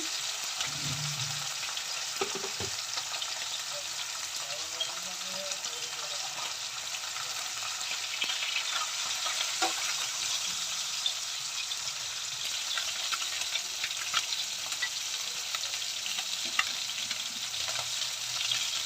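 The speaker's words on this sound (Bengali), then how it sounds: "আমার মাছ ভাজা হয়ে গেছে, ভালো করে লাল লাল করে ভেজে নিলাম।" Steady hiss and crackle of food frying in a pan, continuous and fairly close, with faint utensil sounds now and then.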